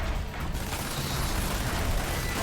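A mechanical walker mech in the video game Red Faction: Armageddon grinds and clanks with dense, continuous rumbling machinery noise, loud and close, with ratcheting metallic textures throughout.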